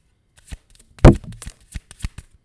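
Tarot cards being shuffled by hand, a string of soft papery riffles and taps with one louder flurry near the middle, close and alone with no talk.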